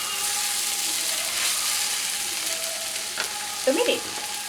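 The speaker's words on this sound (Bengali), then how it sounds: "একটু ভাজা ভাজা করে" Vegetables fry in a pan over a raised gas flame with a steady, close sizzle, and a few brief scraping stirs come near the end.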